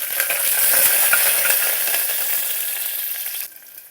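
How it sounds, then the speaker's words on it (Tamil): Garlic and green chillies dropped into hot oil with mustard seeds, a bright crackling sizzle with spattering pops, close and loud before easing off near the end. "இப்போ நம்ம எடுத்து வச்சுருக்க பூண்டும் பச்சை மிளகாவும் போட்டுக்கலாம்."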